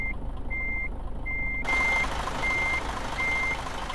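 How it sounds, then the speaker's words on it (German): Reversing beeps from a Mercedes-Benz Actros truck in Euro Truck Simulator 2: a steady series of about six evenly spaced electronic beeps, loud and close over a low engine rumble that grows fuller partway through. "Langsam piepsen und dann weiß ich, wie weit ich hinten dran bin"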